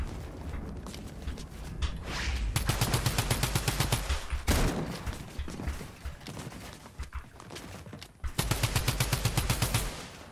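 Video game gunfire in rapid bursts of automatic shots, loud and close, with pauses between volleys and a final sustained burst.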